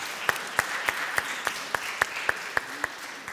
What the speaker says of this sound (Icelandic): Já, við verðum bara að klappa með þessu.